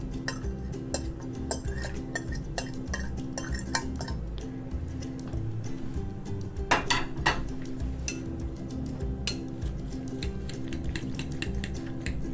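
Chopped green and regular onions are stirred into an omelette mixture in a bowl, and a utensil clinks and scrapes against the sides in quick, uneven strokes, close and moderately loud.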